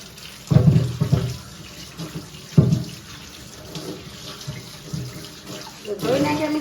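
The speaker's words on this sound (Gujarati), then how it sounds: "હવે ધોઈ નાખશું રીંગણાને પહેલા તો." Cut brinjals (eggplants) washed under a running kitchen tap, with gushing water that surges in loud bursts as they are rinsed, then settles into a steadier, quieter flow.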